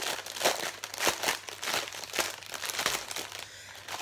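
Crinkly plastic packaging rustles and crackles steadily as a bag of diamond painting drills is opened by hand, with repeated close crumpling bursts that soften toward the end.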